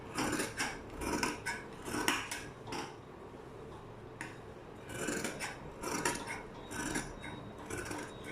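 Scissors cut tailoring cloth along a marked line, making rhythmic, close, crisp snipping and rasping bursts with short gaps, with no voices.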